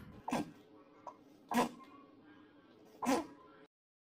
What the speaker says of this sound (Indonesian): aku tuh kalau bersin berulang-ulang